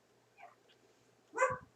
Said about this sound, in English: I start to videotape and my dog starts barking